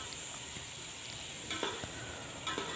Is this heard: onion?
yes